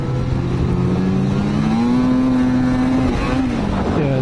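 A Ski-Doo snowmobile engine revs up and holds, a loud droning rise in pitch with a slight burble, then eases back down at close range.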